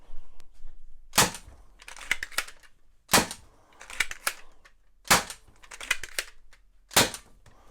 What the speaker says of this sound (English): Here we are with the modified Storm Squad with a K25 spring in it.